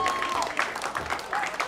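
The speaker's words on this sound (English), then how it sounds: "There's actually only like 6 girls clapping." A small comedy club audience at The Laugh Factory gives brief, scattered applause, thin and patchy rather than a full ovation.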